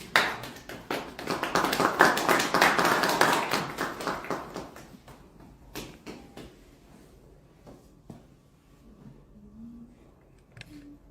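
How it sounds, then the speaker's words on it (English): Applause from a live audience at an investment meet-and-greet in Toronto, loud and dense for the first few seconds, then thinning out to scattered claps that fade away. "Please, a beautiful round of applause"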